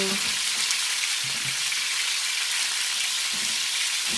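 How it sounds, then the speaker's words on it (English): Steady, even sizzling of fish shallow frying in hot oil, close and continuous with no talking. "you just got a little oil to just shallow fry the fish"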